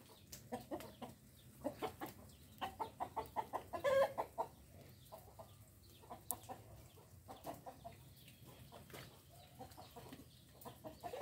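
Rooster clucking in a farmyard setting: a run of short, rhythmic clucks, some in quick bursts, mid-distance and moderately loud over faint background noise, with no talk.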